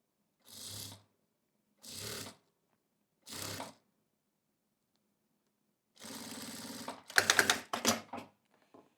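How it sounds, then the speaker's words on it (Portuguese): A sewing machine stitches bias binding onto a tricoline fabric pouch in three short bursts, then in a longer run of stitching that ends in quick stop-start bursts. The motor whirs close and clear, with no talking. "eu já vou costurar um pouco mais aberto"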